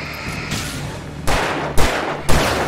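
Gunfire in the video game Alan Wake: three heavy, booming shots spaced about half a second apart, each a sharp blast with a brief tail, over a steady background ambience.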